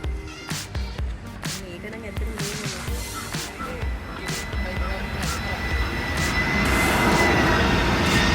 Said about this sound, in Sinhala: දැන් මේ කටුනායකට එන්න හදන්නේ ටිකක් නෙමෙයි හොඳටම ලොකු එයාර්ක්‍රාෆ්ට් එකක්